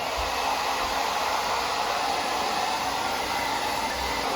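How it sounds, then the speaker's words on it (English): A BaBylissPRO Nano Titanium Portofino hair dryer runs on its high setting, giving a loud, steady, unbroken airy whoosh close by throughout, with no voices. "I'm just gonna turn it on high because who cares about low?"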